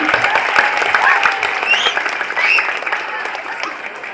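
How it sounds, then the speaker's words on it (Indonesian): Applause from a village crowd at an Independence Day celebration show, with loud, uneven clapping mixed with cheers and voices that tapers toward the end. "Nunas tepuk tangannya"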